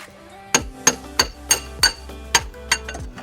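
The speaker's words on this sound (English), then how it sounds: "you just bang, bang, bang, and it'll come right out" A hammer strikes metal in a steady series of about nine sharp, ringing blows, close and loud, driving a passenger side car axle out of the transmission.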